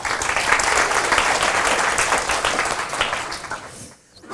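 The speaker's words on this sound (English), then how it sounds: "So round of applause for Barclays, please." An audience at an accessibility meetup applauds in a broad, sustained wave of clapping, close and loud, then fades out abruptly near the end.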